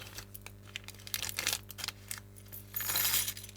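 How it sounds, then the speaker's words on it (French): Scissors, safety pins and buttons drop and clatter onto a crafting table while a junk journal is made, a scatter of light metallic clinks and jingles in brief bursts, close and fairly quiet, with a louder clatter near the end. "je fais tomber un ciseau, des ciseaux, voilà, les épingles à nourrice, les boutons"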